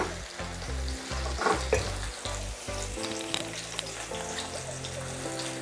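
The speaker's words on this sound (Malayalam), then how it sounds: "നല്ലോണം ഒന്ന് മിക്സ് ചെയ്തെടുക്കാം" Onions sauté in hot oil with turmeric, coriander and chilli powders for a pearl spot fish masala, giving a loud, continuous close sizzle broken by the scraping of a spoon stirring the pan.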